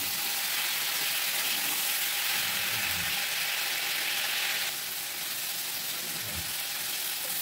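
Salted mango pickle frying in oil in a pan, a steady loud close sizzle with occasional soft stirring scrapes, easing slightly in the second half.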